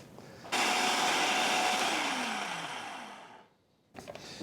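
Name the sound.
food processor pureeing thawed cherries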